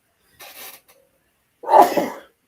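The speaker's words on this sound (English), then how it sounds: "I'm going to sneeze because it's allergy season" A single forceful sneeze, preceded by a short breathy intake, loud and close with quiet before and after.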